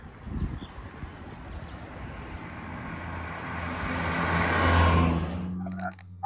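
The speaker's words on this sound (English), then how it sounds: "I'm just driving the car like I normally will, just getting it all warmed up" Turbocharged Hyundai Getz driving while warming up, a steady engine drone with a rising whir that builds over several seconds before easing off, close by with some wind noise.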